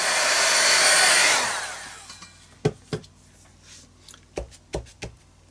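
A hair dryer blows loudly up close for about two seconds to dry an art journal page, then cuts off, followed by several sharp tapping and handling knocks of paper and tools.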